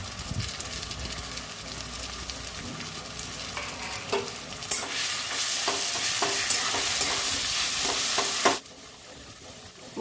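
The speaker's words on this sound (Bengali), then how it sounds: "পেঁয়াজটা খড়া ভাজা হয়ে গেছে এবার আমি সিমগুলোর বাটাটা দিয়ে দিচ্ছি" Ground flat-bean (shim) paste hits a pan of crisply fried onions, giving a loud, continuous sizzle with scraping stirs, then the frying drops abruptly to a quieter hiss near the end.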